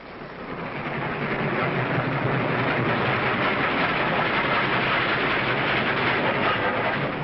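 A train runs on rails with a steady, dense rumble and faint rhythmic clatter, rising over the first second and then holding loud and even without voices.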